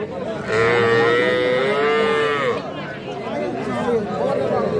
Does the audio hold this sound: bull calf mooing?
yes